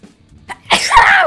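A single sudden sneeze, loud and close, bursts out after a couple of faint sharp intakes of breath, with no talking.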